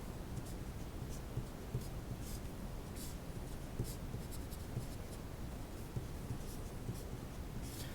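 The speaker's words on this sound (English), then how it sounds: "let me just write this out real quick" Equations being written out by hand, a quiet steady scratching of pen strokes with brief gaps between marks, close and faint, no talking.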